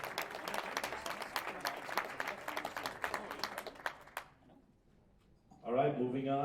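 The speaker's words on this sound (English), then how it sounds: "One more time, round of applause for these 2 fine young junior lifters." An audience at a junior powerlifting meet gives a round of applause, dense steady clapping for about four seconds that stops abruptly, followed by a brief pause and then an announcer speaking.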